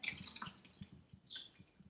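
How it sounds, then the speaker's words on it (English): Tap water pours and trickles onto a tea bag in a container, a soft splashing stream with faint drips, fairly quiet and with no voices. "I'm going to use tap water again, pour it on the tea bag."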